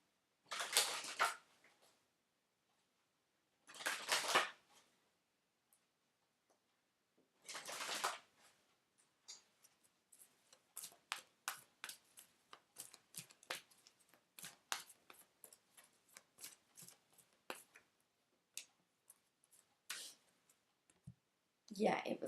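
Tarot cards riffled and shuffled by hand at close range, in a few loud bursts followed by a long run of sharp, irregular clicks and taps, with no talking.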